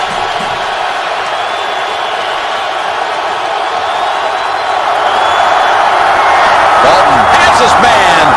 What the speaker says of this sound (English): The crowd is absolutely stirred